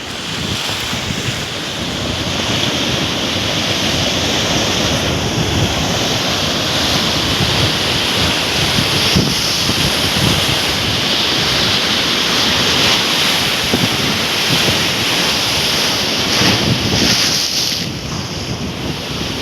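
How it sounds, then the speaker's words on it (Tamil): Ocean waves crash on the shore in a steady, loud roar of surf, with wind buffeting the microphone throughout and no voices. "அலையினுடைய ஆர்ப்பாட்டம், அதாவது அடங்காத்தன்மைன்னு சொல்லுவோம்ல"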